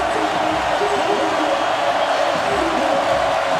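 Stadium crowd noise at a college football game, Kentucky at Florida, swelling as a steady loud roar with scattered whoops on a third-and-long play, continuous and dense throughout.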